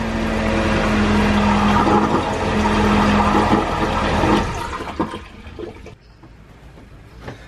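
A freshly installed freshwater marine toilet on a sailboat flushes with a loud, steady rush of water and a pump hum for about four seconds, then tails off into quieter gurgles and drips.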